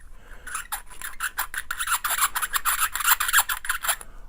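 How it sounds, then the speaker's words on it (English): Rapid rhythmic rasping strokes of a hand chamfer and deburring tool working the mouth of a once-fired .416 Barrett rifle brass case, close up and crisp, with a quick scraping cadence that picks up pace and intensity. "either chamfer deburr by hand"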